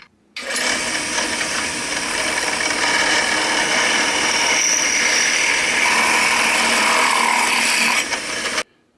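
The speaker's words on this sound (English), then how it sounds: "so got a quarter inch drill bit" A power drill with a quarter-inch bit whirs steadily for about eight seconds, a close, loud, even mechanical grind that starts and stops abruptly.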